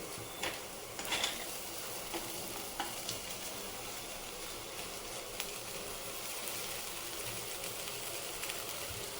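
Soaked poha stirred in a pan with onion and turmeric, a steady close sizzle of frying with occasional scraping ticks from the spoon, no voices.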